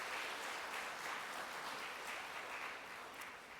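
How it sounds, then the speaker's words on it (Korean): Church congregation applauding to bless departing members, a soft, continuous patter of clapping heard from a distance, steady throughout and fading slightly at the end. "우리 아쉽지만 박수로 함께 축복하고"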